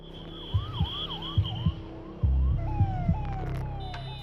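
Ambulance sirens on a road after an attack on tourists in Pahalgam, several wailing and yelping sirens overlapping with passing vehicle rumble and horn blasts, loud and close.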